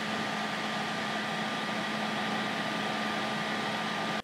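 An AMD R9 290 graphics card fan whirs under gaming load, a steady, fairly quiet broadband whoosh with a faint tonal hum running unchanged throughout.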